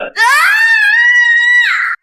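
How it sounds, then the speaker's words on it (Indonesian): A woman screams in one loud, sustained, high-pitched wail lasting nearly two seconds. It rises at the start, holds steady, then breaks off abruptly, heard alone with no talk. "Jangan teriak-teriak."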